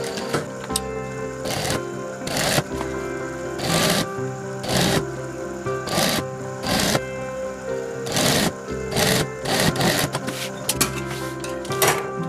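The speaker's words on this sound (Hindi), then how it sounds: "ये हमारा सिलाई हो गया, ठीक है, इस तरह से सिलाई करेंगे हम" A sewing machine stitching a trekking bag at home, loud, whirring bursts of rapid needle clatter separated by short pauses, close up, with no talk.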